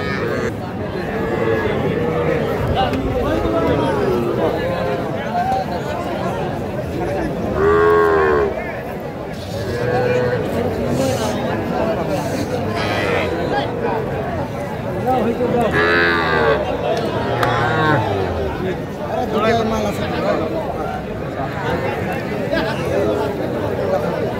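Cattle and young bull calves at a busy livestock market moo loudly and repeatedly, with drawn-out calls rising over constant crowd chatter and bargaining voices.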